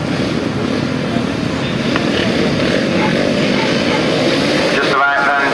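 Grasstrack racing motorcycles rev together at the start of a 1990 British Masters meeting, a dense, sustained engine roar with a commentator talking over it.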